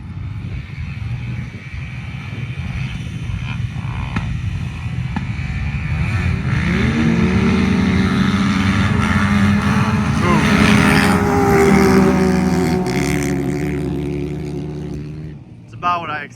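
Turbocharged Can-Am X3 side-by-sides race across sand dunes, with a sustained loud engine roar that rises in pitch as they accelerate and then fades near the end, while people talk over it.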